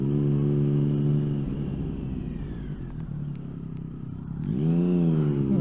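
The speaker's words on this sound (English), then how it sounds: "just stick it in first gear and just give it full revs" A motorcycle engine held at high revs in first gear, a loud steady drone that dips slightly and then climbs sharply as the throttle opens again, heard up close with no talk.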